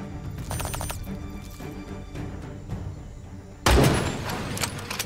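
Rapid synthetic gunfire bursts from a video game, followed by a sharp, louder shot with a ringing tail.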